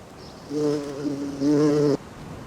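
A mother hornet buzzes close by in a city setting, a loud harmonic drone swelling in two bursts of about half a second and one second, then cutting off abruptly.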